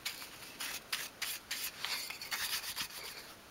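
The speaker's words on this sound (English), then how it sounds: "And then use a nice soft brush to remove the sanding dust." A soft brush sweeps sanding dust off a small wooden piece for a 1/12th scale dolls house kitchen island, giving quiet, close rhythmic rubbing strokes in short bursts.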